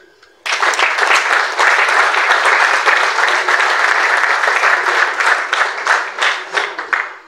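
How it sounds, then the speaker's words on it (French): An audience at a political meeting at Centre Nganda in Kintambo bursts into loud applause after a short quiet start, sustaining dense clapping before it thins into scattered separate claps toward the end. "nous devons nous autoriser à nous applaudir pour le travail"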